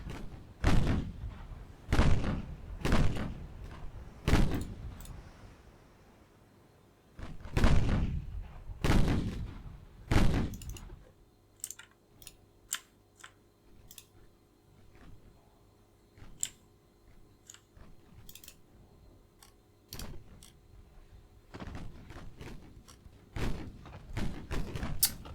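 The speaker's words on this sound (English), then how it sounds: "Firing torpedoes at long range." Naval combat in Ultimate Admiral Dreadnoughts: warships launch torpedoes at long range, a series of heavy, booming thuds in bursts early on, then quieter scattered sharp ticks and distant thumps against a low rumble.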